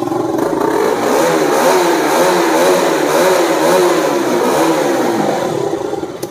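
A 2016 KTM Duke 200 motorcycle starts on its self-starter and revs hard, a loud, close, steady engine roar with rising and falling throttle swells throughout and no talk.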